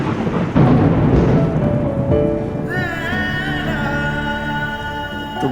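Rain falls steadily with a deep rumble of thunder, loud and close, then continuing as music-like tonal sounds come in partway through.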